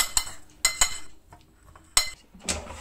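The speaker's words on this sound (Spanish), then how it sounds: "Lo removemos todo bien." Metal cutlery clinking against a bowl while mixing seasoned ingredients dressed with a splash of oil and a pinch of salt, several sharp separate taps and scrapes, close and alone, with short pauses between strikes.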